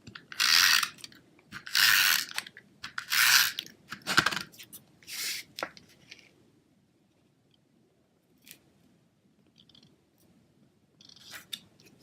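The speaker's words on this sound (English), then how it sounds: "I'm going to adhere that with some snail." Stampin' Up Snail adhesive tape runner rolling across card stock, a series of about five ratcheting zips in quick succession, close and crisp, followed by quieter handling and a final short zip.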